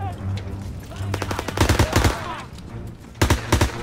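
Gunfire from World War II weapons in the video game Call of Duty WWII, a mission with the Special Operations Executive, with bursts of rapid automatic shots and a short volley after a pause, loud and close over a game background.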